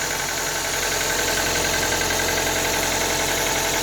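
A Ford Focus MK1 engine idles steadily and loudly up close, a constant mechanical drone with a faint knocking texture and no speech over it.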